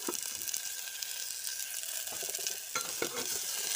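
Vegetables frying lightly in a pan after a cumin tempering, a steady close sizzle with scattered crackles and a few stirring scrapes, no voices.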